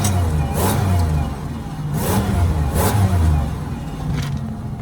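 A supercharged Chevrolet Impala SS engine revved in short bursts, a rough, loud mid-range roar rising and falling a few times with occasional sharp rattles as rocks are thrown out.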